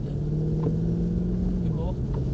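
A Mercedes C63 AMG under acceleration, heard from inside the car as a steady, loud engine drone whose tone holds and then shifts slightly as the revs build.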